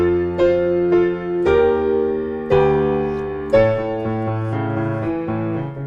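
Piano plays the closing bars of the second verse of a song, a few sustained chords struck one after another at an unhurried pace, clear and close, with no talking.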